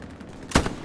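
A single sharp gunshot blast from the World War II shooter game Hell Let Loose cracks out loudly and briefly, decaying into a short rumbling echo over quiet background.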